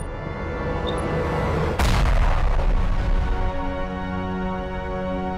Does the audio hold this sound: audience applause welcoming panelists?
no